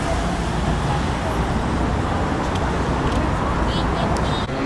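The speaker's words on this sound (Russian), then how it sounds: "Это экскурсионный автобус." A sightseeing bus rumbles along busy city street traffic in St. Petersburg, a dense, continuous roar of engines and road noise close by, with brief faint squeaks and a voice speaking over it.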